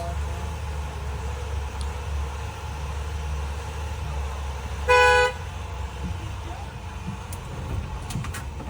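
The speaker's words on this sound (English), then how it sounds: "You honk the horn, and he'll come back on the bus." A single short blast of a school bus horn sounds mid-clip over a steady low engine rumble.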